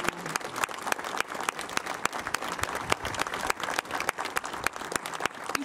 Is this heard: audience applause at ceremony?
yes